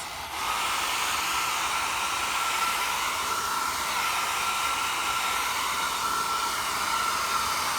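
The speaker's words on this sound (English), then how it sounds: "drying, I just use a hair dryer like this" A hair dryer blows steadily and loudly the whole time, a constant airy whoosh with no voices.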